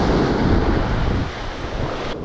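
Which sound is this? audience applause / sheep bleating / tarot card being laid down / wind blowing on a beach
wind blowing on a beach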